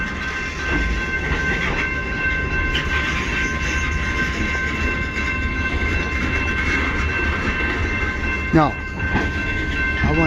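A CN freight train rolls steadily past near South Rockwood, its loud continuous rumble and rail clatter filling the whole stretch, with a brief squeal near the end and people talking faintly underneath.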